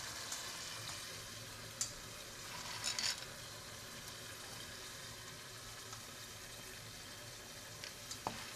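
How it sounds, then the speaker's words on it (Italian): Sausages and bell peppers frying in a pan for pasta, a steady soft sizzle that runs throughout at low volume, with a few faint clinks and stirring sounds and no talking. "salsicce e peperoni stanno andando"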